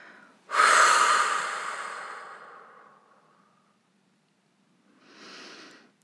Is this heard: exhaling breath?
yes